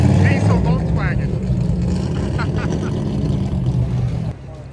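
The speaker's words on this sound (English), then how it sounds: "Look at that diesel Volkswagen." A diesel Volkswagen car drives past on a street in Mooresville during a burnout event, its steady low engine rumble running throughout under nearby voices and crowd noise.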